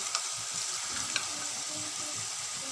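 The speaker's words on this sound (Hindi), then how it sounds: "अब हम इसको फ्राई करेंगे।" Potato fries frying in hot oil in a pan over medium heat, giving a steady close crackling sizzle with occasional sharper pops throughout, no voices.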